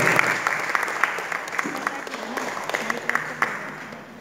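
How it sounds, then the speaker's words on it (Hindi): Warm applause breaks out for a couple at an Agrasen Jayanti best couple competition in Barpali, steady clapping from the crowd with music and voices continuing underneath. "इनके लिए जोरदार तालियों"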